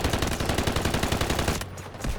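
Rapid automatic gunfire from a modern first-person shooter game, a loud close burst of evenly spaced shots that stops abruptly, followed by a brief quieter tail.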